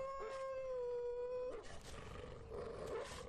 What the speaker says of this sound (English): Or is it a wolf?